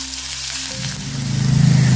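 Coriander and masala hit hot tempering oil for a peanut amti, giving a close, bright sizzle that swells into heavier bubbling frying toward the end.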